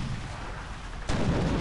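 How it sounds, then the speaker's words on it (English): Cannon fire from a ship in Sid Meier's Pirates: a sudden loud broadband boom about a second in, then a sustained rumbling roar after a steady background of game ambience. "we'll shoot cannonballs, which is awesome."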